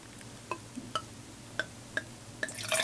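Red wine drips falling into a glass after a pour, a handful of distinct, evenly spaced plinks standing out over a quiet room, followed by a brief faint splashy rustle at the end.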